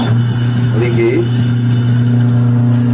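An InsinkErator Model 66 food waste disposer runs in a kitchen sink with a loud, steady motor hum and whir that holds without letup, with a voice talking briefly over it.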